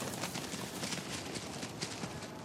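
Horses' hooves clip-clop steadily across open Kyrgyz pasture land, a dense, continuous patter of several animals moving at close range with no voices.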